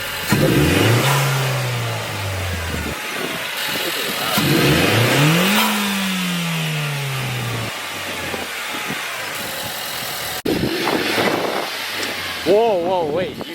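A Nissan Juke Nismo fitted with a loud turbo modification revs hard in repeated rising and falling bursts, close and loud, with people talking and exclaiming around it.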